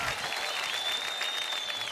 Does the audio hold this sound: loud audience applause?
yes